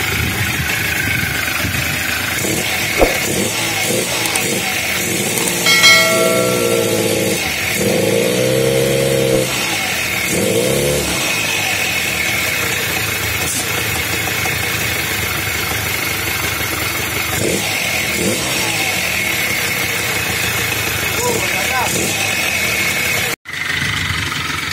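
A Suzuki V100 motorcycle, just repaired after failing to start, runs steadily close by, a small single engine idling with a few brief revs early on before settling, then cutting off near the end.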